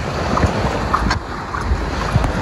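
Steady rushing wind and water noise as a small bangka boat moves over the sea while island hopping in Sual, Pangasinan, with a few faint knocks and thumps.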